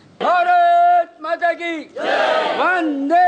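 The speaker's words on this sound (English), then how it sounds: "Chants of Jai Hind rang through the audience" A large crowd at an Independence Day flag-salute gathering of children, women and people of all ages chants Jai Hind in loud, rising group shouts, with a few short bursts and a brief pause between the longer cries.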